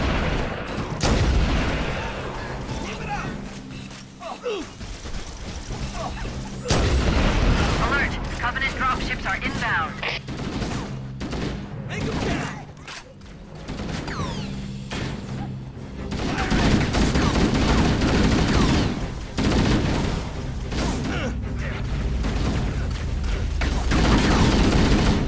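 Sustained gunfire from Halo: Combat Evolved, with rapid bursts and heavy booms rolling almost continuously through a loud battle, while voices talk over parts of it.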